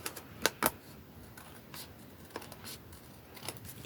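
Scissors trim excess paper from a handmade scrapbook Christmas tree card: a few sharp, close snips spaced out over a quiet background, with no talking.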